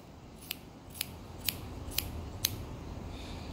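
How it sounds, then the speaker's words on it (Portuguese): Laser-edge hair scissors with a micro-serrated blade cut straight through hair in five crisp, evenly spaced snips about half a second apart. The snips are close and quiet over a soft room hiss, with no talking. "Vou usar uma tesoura fio a laser, que ela tem uma micro serrilha na lâmina."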